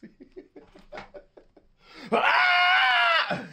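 A person imitates Goku's anime screams: a few short breathy grunts and chuckles, then one loud, sustained, strained yell held for over a second before cutting off.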